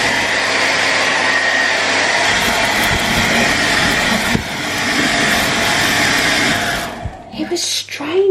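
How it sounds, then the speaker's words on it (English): Loud, steady wind sound effect roaring continuously, swelling in intensity and rushing breathily before dropping off near the end. "they suddenly heard the sound of wind, which got louder and louder."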